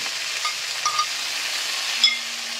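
Potatoes, tomatoes and green chilies frying in a pan for a spicy tengra fish curry, a steady broadband sizzle with a few soft utensil scrapes and a brief clink near the end, no voices.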